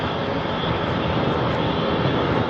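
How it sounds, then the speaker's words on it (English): A steady, loud engine roar from a helicopter overhead fills the air, droning continuously without change. "oh, helicopter up there. You guys see that?"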